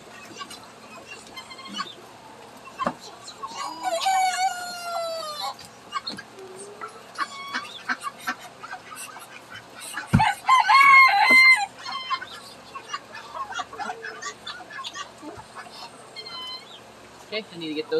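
A flock of chickens in a farmyard, with roosters giving several clear crows over steady clucking and scattered calls, some birds close and others farther off, across a long stretch of busy yard noise.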